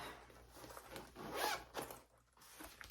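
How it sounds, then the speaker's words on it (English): A zipper running all the way around a fabric colouring caddy case is pulled open in one continuous zip, close and clear, rising to a louder rasp midway and then easing off. "And then it's got this full open zipper around, okay?"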